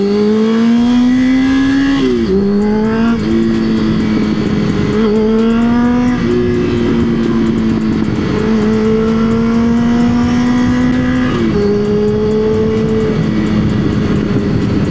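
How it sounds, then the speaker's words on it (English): A Yamaha R6 motorcycle engine runs loud nearby, a strong continuous drone with repeated quick revs and gear-like pitch shifts rising and settling over the whole stretch, no speech. "That's probably the one thing I like about this bike being loud."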